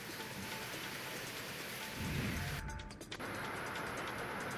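Rain falling on a cloudy day in Raigad, a dense, even hiss of drops close by with a brief low rumble in the middle, no voices.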